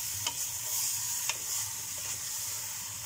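Meat frying in a pan with ghee sizzles with a steady hiss, broken by a few sharp scrapes and knocks of a utensil stirring and mixing it, close and fairly loud.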